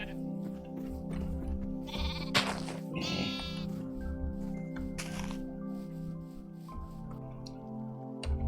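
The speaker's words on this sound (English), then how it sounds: "Baby sheep." Sheep bleat a few times in a video game, short wavering calls rising over a steady looping musical drone, with small clicks and drips between.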